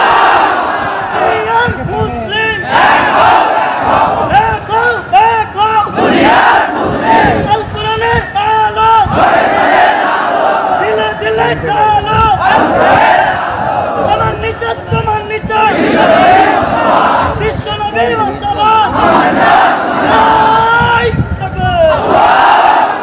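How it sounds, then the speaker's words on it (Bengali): A large crowd shouts in loud, repeated collective cries of praise at an outdoor Islamic religious gathering, the roaring chant swelling and falling in waves for the whole stretch, close and dense. "জোরে তাকবীর দাও।"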